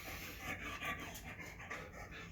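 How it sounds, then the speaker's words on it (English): A dog pants quickly and rhythmically close by, soft breathy puffs repeating steadily with no talking. "if you're wondering what that noise is, that's the dog"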